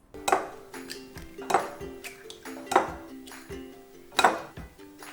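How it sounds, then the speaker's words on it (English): Eggs cracked one by one against a bowl for a vanilla sponge cake batter, four sharp clinking taps spaced about a second apart with soft wet shuffling between them, close and fairly quiet. "So to a bowl, I'm going to break 4 eggs."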